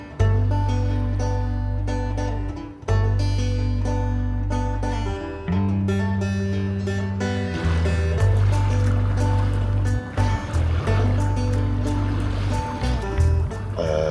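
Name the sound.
boat on the sea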